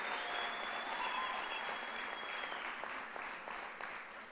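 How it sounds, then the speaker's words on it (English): A large audience at a university's 150th anniversary celebration applauds its Vice Chancellor, a steady wash of clapping heard throughout, with a faint tone lingering above it early on. "Let's give another round of applause to our Vice Chancellor, Professor Puleng Lenkabula"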